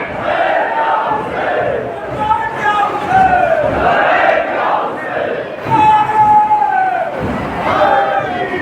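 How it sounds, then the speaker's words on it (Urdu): A large mourning gathering at an annual majlis chants Labbaik ya Husain in loud, rhythmic unison, waves of massed voices swelling and answering one another, close and continuous throughout. "جو لبیک یا حسین کے نعرے لگا رہے ہیں"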